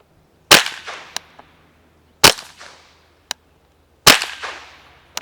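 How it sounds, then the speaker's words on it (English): Integrally suppressed Ruger 10/22 .22 rifle firing M22 supersonic rounds outdoors: three loud, sharp cracks about two seconds apart, each with a fading echo, plus a fainter click between shots. "That's supersonic, so 4 more shots of supersonic."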